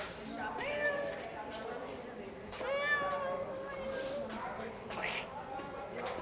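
Faint, thin meows from a small cat rise and fall a few times over soft background noise, with people talking nearby.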